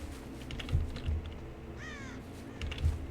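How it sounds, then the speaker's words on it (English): A crow caws once in Dead by Daylight, a short ragged call that rises out of a quiet forest ambience, with soft keyboard clicks underneath. "Oh, I heard a crow."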